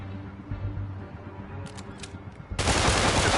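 Enemy gunfire in Marvel's Spider-Man, quiet at first with a couple of brief sharp snaps, then a loud sustained burst of rapid shots erupting near the end.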